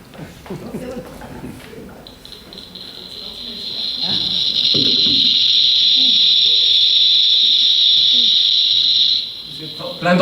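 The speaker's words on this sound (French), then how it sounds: "j'ai amené un objet que vous connaissez, vous bien. Ce joli petit réveil." A small alarm clock rings with a loud, continuous high buzzing that sets in after someone speaks in French and holds steadily for several seconds, then stops abruptly.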